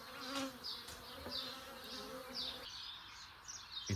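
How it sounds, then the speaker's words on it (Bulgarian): Honeybees hum faintly inside a closed swarm trap box, a thin steady buzz with occasional louder passes of individual bees, close but quiet, with no voices. "Почуквам го от време на време, жуженето е много слабо, мисля, че няма много пчели вътре."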